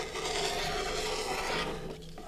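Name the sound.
rotary cutter trimming quilt fabric along a ruler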